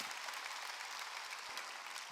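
A church congregation applauds during a Korean sermon, a steady wash of many hands clapping together, moderately distant and even throughout.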